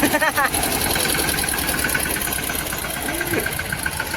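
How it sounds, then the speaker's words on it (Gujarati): A farm tractor engine runs and revs loudly in a field, a continuous mid-pitched rumble with a sharper rise near the start, while people talk over it. "ભમરાવે ટ્રેક્ટર"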